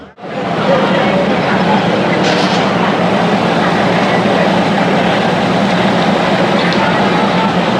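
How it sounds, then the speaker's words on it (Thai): Steady, loud rumble inside a Thai diesel passenger train in ordinary service, running continuously throughout with faint rhythmic clatter and no talking audible over it. "อันนี้คือบรรยากาศภายในรถก่อนนะครับ รถไฟดีเซล"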